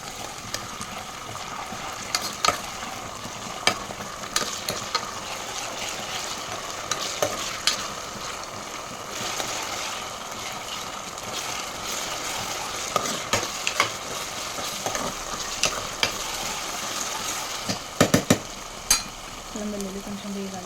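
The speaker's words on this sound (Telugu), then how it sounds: "ఆనియన్స్ మంచిగా ఫ్రై అవ్వాలి కొంచెం." Onions frying in a pan while a mutton curry is being made, a steady sizzle with scattered clicks and stirring scrapes of a spoon, close up, continuing throughout with no talk over it.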